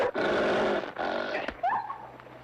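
A dog in a classic Western TV drama snarls and growls loudly and continuously, then breaks into a short rising yelp as it is struck, with no voices over it.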